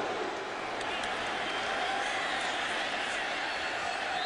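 A sellout crowd at a Florida State vs Miami football game makes a steady, broad roar with scattered applause, heard at a distance and never dropping for the full few seconds.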